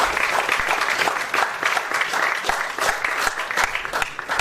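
An audience at a theater festival claps loudly and steadily after cast members are introduced following a play, a dense, continuous round of applause close by.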